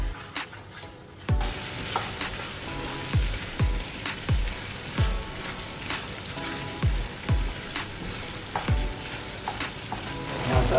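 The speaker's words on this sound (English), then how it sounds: "I like to spend enough time to fry my pepper base, okay?" Pepper base for water spinach soup fries in a pot with a crackling sizzle, broken by regular rhythmic thumps of stirring that repeat about every second, loud and close, no voices.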